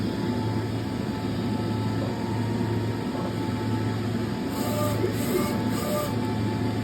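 A Magesty 600 mini UV printer hums steadily while running a nozzle check, with faint mechanical whirs and brief hissing bursts near the end.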